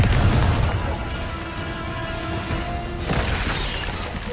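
Confringo blasting spell exploding in the Hogwarts Legacy video game: a loud low boom that decays into a sustained rumbling, crackling tail with a fresh surge near the end.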